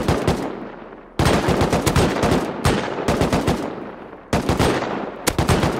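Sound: gunfire in a video game

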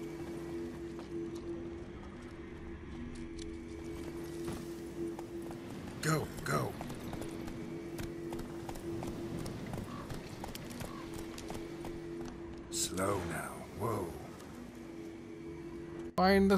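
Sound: horse galloping hooves in video game The Witcher 3 Wild Hunt

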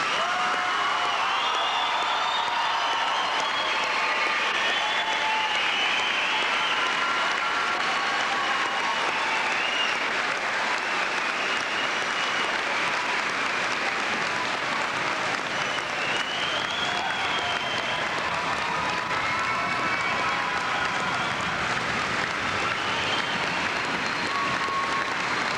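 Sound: commencement audience applause and cheering for graduating class

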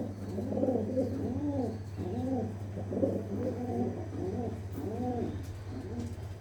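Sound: pigeons cooing in a coop

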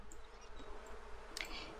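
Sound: bees buzzing around Sims in The Sims 4 Seasons video game

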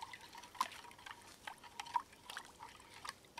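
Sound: stirring a prepared drink with liquid

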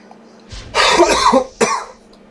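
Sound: coughing

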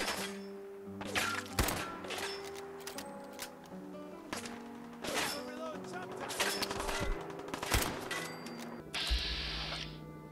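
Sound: machine gun turret firing in video game Fallout

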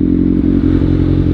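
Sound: passing traffic on the road

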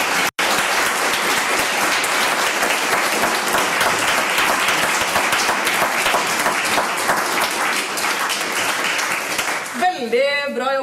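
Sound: live audience applause for candidates

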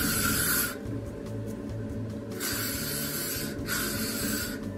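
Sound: L'Oreal Elnette hairspray being sprayed on hair

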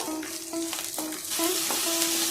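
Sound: green peas frying in oil

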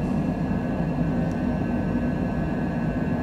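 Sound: Cessna Citation Longitude jet climbing after takeoff

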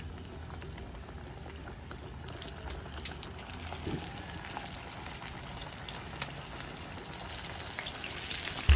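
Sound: crispy breaded chicken deep frying in oil

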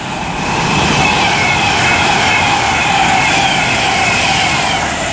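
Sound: Pendolino train passing, Liverpool Lime Street to London

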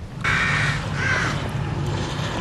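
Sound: crow cawing in the video game The Evil Within

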